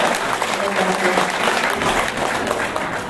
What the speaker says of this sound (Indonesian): Akhirnya tepuk tangan untuk Pak Wali dari Sukarso.